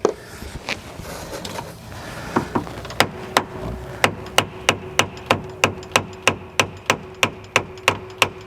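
Sharp tool strikes on a spa plumbing union to turn it counterclockwise, a few scattered knocks at first, then a steady, evenly spaced series of crisp close taps.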